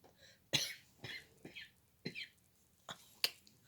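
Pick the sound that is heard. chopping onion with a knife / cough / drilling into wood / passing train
cough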